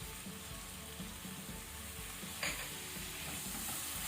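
Soya chunks stir-fry in a pan with tomato, chili and soy sauces over a low flame, giving a faint, steady sizzle with soft stirring scrapes and one brief brighter clatter midway, no voices.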